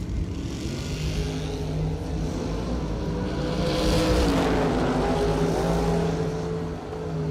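Drag racing cars at a bracket race, one of them a Roadster, roar continuously from a distance, the engine noise swelling midway as the cars launch and run down the strip.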